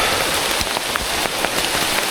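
Heavy rain falls on a mountain trail during a thunderstorm, a loud, dense, steady hiss of drops hitting nearby surfaces with scattered sharper patters throughout and no voices.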